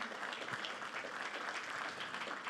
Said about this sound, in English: Mais on peut vous applaudir tous les deux.